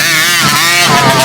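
A 50cc motocross bike passes close by, its high-pitched two-stroke engine whining loud and steady with wavering pitch throughout the short moment, no voices.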